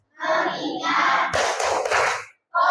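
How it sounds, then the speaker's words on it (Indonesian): A classroom group performs a rhythmic tepuk fokus clapping chant, bursts of patterned hand claps mixed with chanted voices, loud and close, ending briefly before a voice resumes. "Kita tepuk fokus dulu ya"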